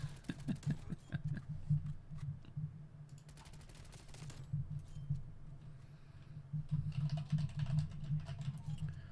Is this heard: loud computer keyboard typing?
yes